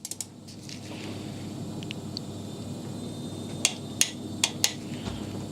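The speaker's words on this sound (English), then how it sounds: "Now I can go ahead and torque them down." Torque wrench clicking as oil squirters are tightened on a Mini Cooper N14/N18 engine during a rebuild, four sharp close clicks in quick succession over a steady background hum.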